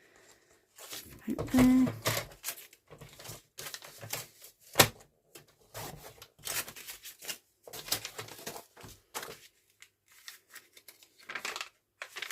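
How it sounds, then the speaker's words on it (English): Scissors snip through paper for a junk journal, making a series of close, crisp cuts in uneven bursts with short pauses between them, while someone talks briefly. "I want this raggedy edge, so I'm going to cut it"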